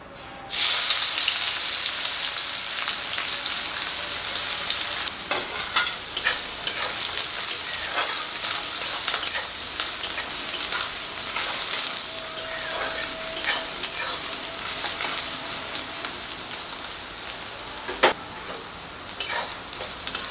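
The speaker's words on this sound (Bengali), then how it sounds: "ওই পেঁয়াজটা আমি প্রথমে তেলে দিয়ে দিচ্ছি।" Finely chopped onions hit hot oil for chole, a loud sustained sizzle and crackle from the first second, with occasional stirring scrapes and pops throughout, no talking.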